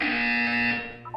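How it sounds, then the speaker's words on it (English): A loud electronic buzzer sounds in the video game Portal 2, a single sustained harsh tone with strong harmonics lasting about a second, then fading as brief faint blips follow. "You will hear a buzzer."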